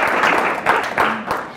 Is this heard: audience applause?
yes